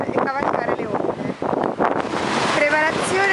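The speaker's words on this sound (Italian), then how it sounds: "Iniziano a farsi alte anche le onde" Wind and waves roll in at a beach where windsurfers and surfers head out, a strong gusting roar with wind buffeting the microphone and surf washing steadily beneath.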